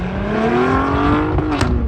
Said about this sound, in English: So we come from driving the CT4 Blackwing in Forza Motorsport, and now we get to drive them in Autocross.